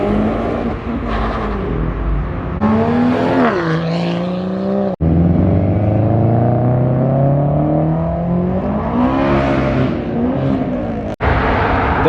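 A modified Toyota GR86 revs loudly up close and pulls away from a car show, its engine note climbing through gears in long sweeping runs with two abrupt cutoffs, steady and dominant throughout.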